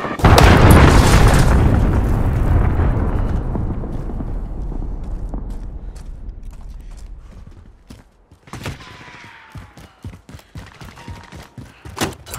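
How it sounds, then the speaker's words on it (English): A massive enemy cruise missile explosion in the video game Call of Duty: Modern Warfare, starting as a loud, deep boom that rolls out and slowly fades over several seconds, followed by scattered debris clatter and sharp thuds. "Enemy cruise missile incoming!"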